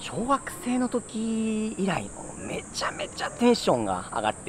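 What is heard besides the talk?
cicadas chirping in the mountains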